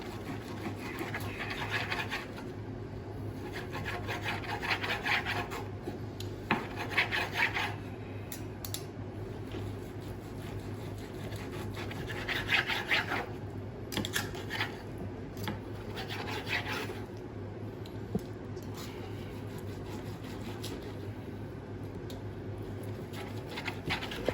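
A sharp knife saws through a tough cut of beef on a board for Berber-style tajine, a faint repeated rasping rub in slow bursts over steady background hum.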